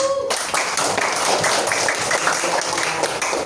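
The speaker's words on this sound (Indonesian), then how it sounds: "Tepuk tangan untuk semua" Students in a classroom clap their hands together, a brisk, loud burst of many overlapping claps that starts suddenly and keeps up evenly for a few seconds.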